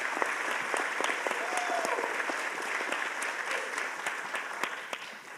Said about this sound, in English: So a big round of applause to our fantastic panel.